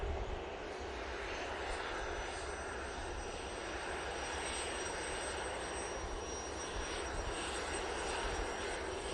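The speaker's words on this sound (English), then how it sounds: "Next out, well, it'll be this little beauty, which is the Embraer Praetor." An Embraer Praetor business jet at Manchester Airport gives off a steady engine roar with a thin high whine running through it. The sound stays even in level for the whole stretch and is heard alone, without speech.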